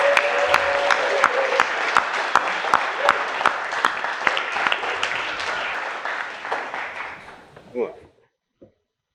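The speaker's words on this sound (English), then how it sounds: "Let's give Dayne a huge round of applause." A live audience at a talk gives a long, warm round of applause welcoming a sleep speaker, steady dense clapping that thins out and fades to a few last claps.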